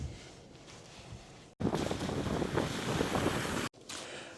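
Loud wind buffets through the open window of a BYD Seal U DM-i on an off-road climb, a broad rushing roar that surges up abruptly for about two seconds, then cuts out and returns more softly.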